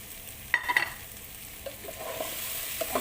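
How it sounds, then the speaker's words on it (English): Drumstick, eggplant, carrots and green chili sautéing for sambar, a soft steady sizzle with a few clanks of stirring near the start, close and fairly quiet, no talking. "let's just saute this for another 2 minutes"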